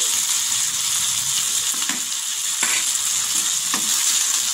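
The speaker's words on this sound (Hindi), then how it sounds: "हमारा जो है गोश्त वो अच्छे से फ्राई हो रहा है" Gosht (meat) fries in a pan with a loud, continuous sizzle throughout, with a few soft stirring scrapes and no voices.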